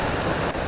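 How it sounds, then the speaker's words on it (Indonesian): Water pours continuously at Cuup Pesuk waterfall in Central Bengkulu, Indonesia, a brief, steady broadband rush heard close with no voices. "Asli ini air terjun, pokoknya mah wow lah"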